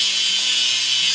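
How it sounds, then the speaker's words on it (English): An angle grinder works steadily over a welded seam on a metal mini dump truck, producing a loud, continuous high-pitched grinding hiss without pauses. "Let's grind the welding seam."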